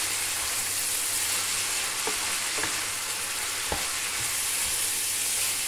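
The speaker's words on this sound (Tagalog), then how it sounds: "So may pritong isda pa ako dyan na nilagyan ko ng harina." Flour-coated fish fries in hot oil with a loud, continuous close-up sizzle, broken by a few faint clinks and scrapes, and no one talks.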